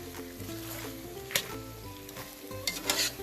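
Spinach sizzles and fries in a pan with gnocchi in a vegan scramble, a steady close crackle broken by a few brief stirring scrapes and no talking.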